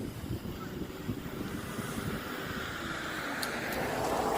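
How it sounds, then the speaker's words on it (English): Steady wind rushes past a Propel Maximum X01 micro drone in flight outdoors, a continuous broadband roar with buffeting on the microphone that swells slightly toward the end, with no voices. "So pretty decent amount of wind here."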